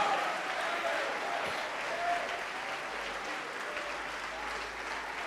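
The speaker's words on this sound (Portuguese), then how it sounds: "vamos aplaudir mais ao nome do Senhor" A church congregation applauds steadily throughout, a dense, even wash of many hands clapping at moderate volume with no pauses.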